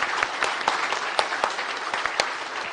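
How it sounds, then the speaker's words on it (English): Audience applause at a live-streamed panel discussion, a steady wash of clapping with sharper individual claps popping out, moderately loud and without talk. "I want the audience to give a big round of applause to all our panelists."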